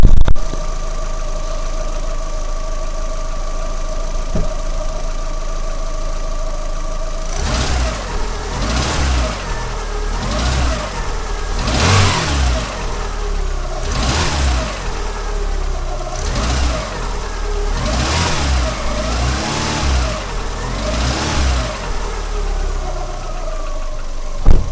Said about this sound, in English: the instructions say to give it some higher revs, just to get more gas flowing through